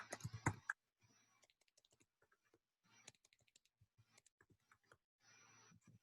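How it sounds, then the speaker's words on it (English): Bursts of rapid typing on a computer keyboard, close and fairly quiet, separated by scattered single key clicks and short pauses, with no talking. "So you can type here."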